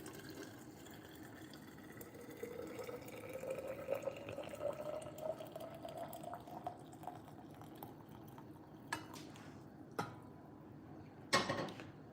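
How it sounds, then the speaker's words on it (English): Hot water pours into an Iron Flask thermos, a quiet continuous trickle whose pitch rises steadily as the flask fills, ending with a few small clinks and taps. "we're also going to fill this up with some hot water. This is my Iron Flask thermos."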